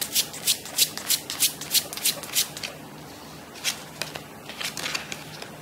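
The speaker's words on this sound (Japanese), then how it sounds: "じゃあオラクルカードで見ていきます" Oracle cards are shuffled close up in a quick, even run of about nine crisp riffling strokes. After a short pause comes a looser, softer burst of shuffling, and no one speaks.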